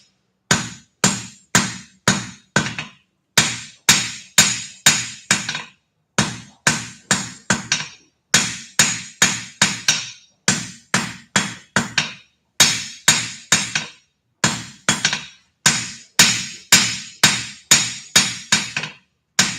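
Hammer forging a wrought iron bar on an anvil, with steady rhythmic runs of sharp ringing blows in quick groups, close and loud, no talking.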